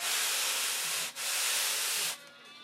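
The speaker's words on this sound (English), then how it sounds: "So then I take a sanding bar and true it up after cutting it straight." A sanding bar rasps along a cut wooden piece to true it up in two long, loud, close strokes separated by a brief pause. A quieter tail follows the second stroke.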